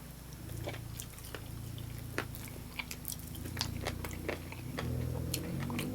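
Someone eats breaded chicken wings with blue cheese at a New Jersey brew house, making close, wet chewing and smacking sounds broken by scattered sharp bites and clicks, with no talking.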